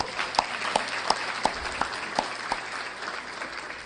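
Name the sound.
gala audience applause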